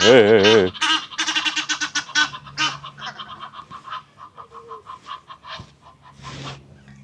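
Several ducks honk and quack in a noisy burst up close at a small beach in Ladenburg, with people chatting underneath as the calls trail off.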